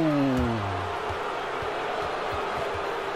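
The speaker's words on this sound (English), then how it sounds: "The crowd is not liking this." A virtual arena crowd in the NBA 2K23 basketball game gives off a steady, dense roar. Falling tones sound at the start, and faint ball bounces thump rhythmically underneath.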